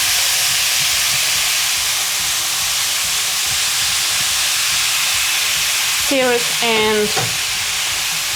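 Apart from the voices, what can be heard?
meat searing and sizzling on onions in a pan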